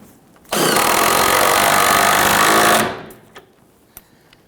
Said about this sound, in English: Let's go ahead and tighten that one down.